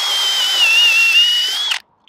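A power drill bores through a clamped steel plate and timber flitch beam for a garden room roof: a loud, steady high whine lasting nearly two seconds, then cutting off abruptly.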